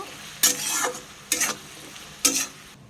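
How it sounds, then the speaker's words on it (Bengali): Ginger, garlic and onion paste sizzles in a pan under a low hiss. Three distinct bursts of spoon scraping and stirring break in at regular intervals. "এবার আমি আদা, রসুন, পেঁয়াজ বাটাটা অ্যাড করছি, ভালো করে নাড়িয়ে নেব।"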